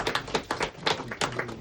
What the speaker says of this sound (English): may we have a round of applause for Grant Hodge